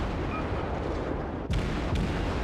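Naval gunfire in the World of Warships video game, heavy booming blasts over a constant low roar, with one sharp shot at mid-clip and a lighter one shortly after.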